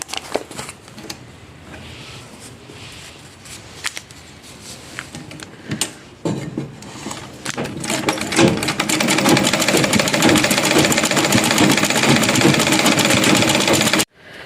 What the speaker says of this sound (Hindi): इस सिलाई के ऊपर हम सिलाई लगाएंगे